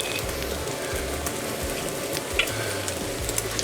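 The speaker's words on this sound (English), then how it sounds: "now I'm gonna add the mushroom and onion to the bacon here" Bacon, mushroom and onion fry in a pan over full heat, giving a continuous close crackling sizzle with occasional stirring scrapes and no voices.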